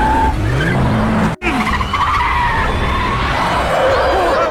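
A car skids hard to a sudden stop during an illegal street race, a loud sustained tire squeal with gliding screeches and a brief cut partway, then continuing engine and road noise.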